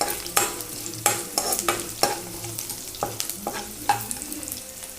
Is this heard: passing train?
no